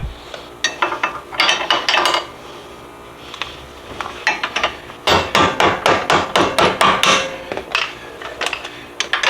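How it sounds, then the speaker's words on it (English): Rapid clattering of a power tool or ratchet removing 14mm nuts from the top of a strut tower on an Infiniti Q50, coming in close, loud bursts with short pauses between them. "we're gonna remove the 14mm nuts that are on the top"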